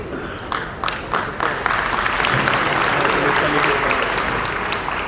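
An audience at a Yoga Day event breaks into applause, starting with a few scattered claps that quickly swell into steady, dense clapping from a large crowd and holding loud throughout.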